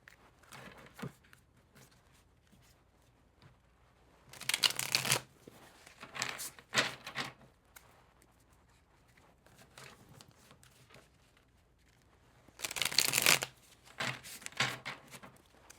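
Tarot cards are shuffled in two loud riffling bursts, with softer taps and handling of the deck between them, close by in a quiet room.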